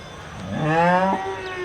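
A dairy cow at the Karimangalam cattle market gives a single loud, drawn-out moo that rises then cuts off, heard near and clear over faint background noise.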